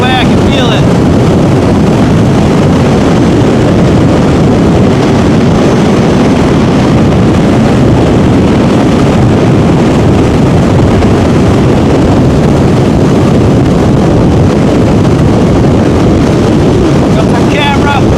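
A hyper scooter on a top speed run into the wind, with heavy, continuous wind roar and rushing noise loud throughout, masking the motor.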